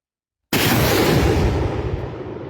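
After a moment of silence, a Ukrainian mini-Grad multiple rocket launcher fires with a sudden deafening blast that becomes a long rushing roar, slowly fading as it recedes.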